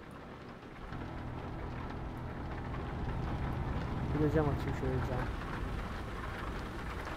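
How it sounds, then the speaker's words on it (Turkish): Steady hiss of rain in the truck driving video game Euro Truck Simulator 2 fills the background while someone talks over it, the patter growing slightly louder partway through. "Yağmur sesini size de bir dinleteyim."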